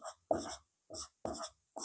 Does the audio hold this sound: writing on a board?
yes